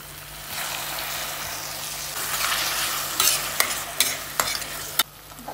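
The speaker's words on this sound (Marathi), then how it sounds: "कांदा आणि टोमॅटो मस्त तेलामध्ये परतलाय बघा." Onion and tomato frying in oil for a mutton curry, a continuous close sizzle, with sharp stirring scrapes and knocks against the pan toward the end.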